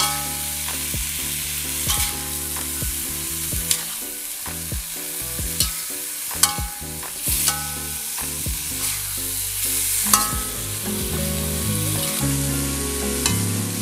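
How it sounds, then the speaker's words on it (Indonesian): Potato sambal with fried quail eggs sizzles loudly in a pan, with the scrape and clack of a spatula stirring it in an irregular rhythm throughout, no voices. "Masak jangan terlalu lama, sambil diaduk-aduk agar tidak hangus kurang lebih 5 menit hingga tercampur rata."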